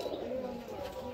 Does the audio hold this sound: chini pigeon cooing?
yes